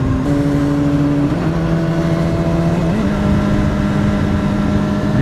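The engine of a 2016 BMW S1000RR motorcycle drones loud and steady, its pitch stepping as the rider shifts gears twice.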